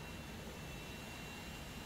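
Steady broadband roar of twin Pratt & Whitney J58 jet engines on an SR-71 Blackbird in a flight video game, spooling at start-up, a constant even whoosh held at moderate level with no talk.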